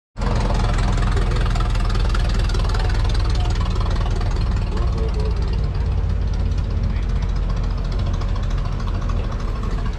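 Golf carts, scooters and mini bikes rumble and whine continuously nearby at an antique auto show swap meet, a steady engine drone filling the whole stretch.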